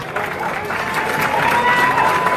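An audience applauds and cheers the casino resort staff at a beauty pageant preliminary competition, producing a steady, dense wash of clapping that fills the large hall throughout.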